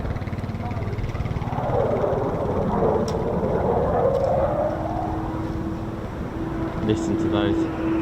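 A military fast jet lights its reheat at an air show. The roar swells and sweeps overhead in a loud, rumbling pass, then settles into a steady whine while a commentator speaks over it.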